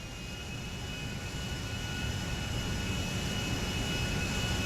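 Boeing 747 jet engines in GTA V, a loud steady roar with a constant whine that swells slightly over a few seconds.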